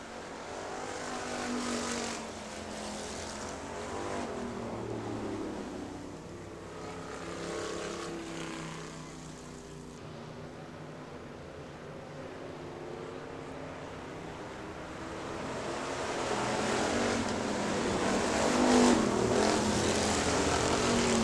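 Factory stock race cars racing at Hartford Speedway Park in 2000 make a continuous, layered engine roar that rises and falls as the pack passes. It swells louder toward the end.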